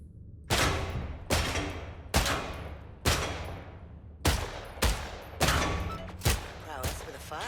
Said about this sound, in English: Unholster your sidearm, would you? Never underestimate the value of a well-maintained sidearm in surprise situations. Now, shoot the targets.